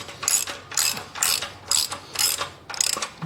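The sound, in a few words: ratchet loosening muffler bolts on a Harley-Davidson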